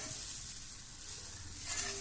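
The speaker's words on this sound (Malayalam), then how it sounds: "നന്നായിട്ട് ഇളക്കി വറുത്തെടുക്കുക" Grated coconut roasts in a pan for chammanthi podi, giving a steady dry sizzling hiss with continuous stirring and scraping close by.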